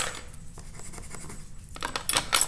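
Scissors snip through basic white cardstock in a quiet, close series of scratchy cuts, with a few brighter, louder snips near the end and no talking.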